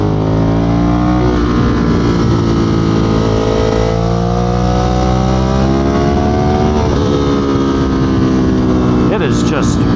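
A 2022 Ducati Monster motorcycle engine drones loudly and steadily while riding, its tone rising and falling with throttle changes, with wind noise and no speech.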